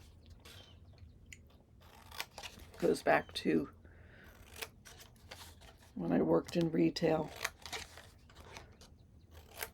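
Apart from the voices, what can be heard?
scissors cutting paper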